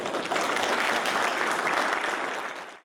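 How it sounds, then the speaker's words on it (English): A round of audience applause at a tech company event's opening remarks, recognizing the sponsor, steady and full-bodied from the start before ending abruptly. "So if I could ask you all to please give a round of applause for our sponsor."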